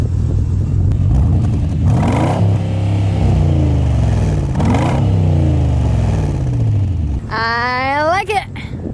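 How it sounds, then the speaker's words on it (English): A Porsche Cayenne Turbo V8 with a newly fitted exhaust revs twice, deep rising and falling engine swells under steady idle rumble, with a higher whine near the end, loud and close. "You gonna do some revs for me?"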